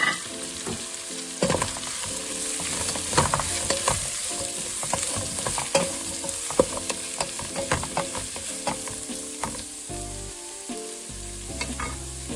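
Crushed shallots go into a hot pan with onions for a spicy Sri Lankan chicken curry, frying with a continuous sizzle and repeated stirring scrapes and clatters, no voices.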